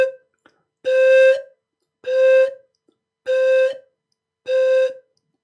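Four sustained breathy pan flute notes, each about half a second long, played at a steady pace with short silent gaps between them.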